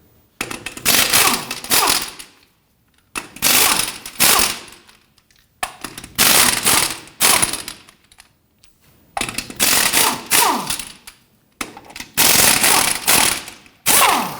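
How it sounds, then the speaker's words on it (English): An impact wrench loosens and removes the wheel lug nuts on a Jeep Patriot, firing in five loud, rapid rattling bursts of about two seconds each, separated by short silent gaps. "Let's go ahead and loosen and remove our lug nuts."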